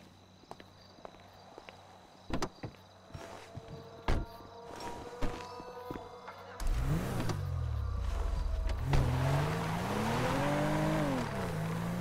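A car in the video game GTA V, first scattered footsteps and clicks over a quiet idle, then the engine revs up loudly with rising and falling pitch as it drives off.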